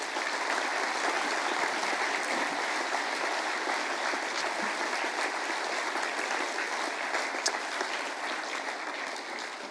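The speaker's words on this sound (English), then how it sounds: "Can we give them one big round of applause?" A school assembly audience gives a sustained round of applause for its high achievers, steady dense clapping throughout with no talk over it.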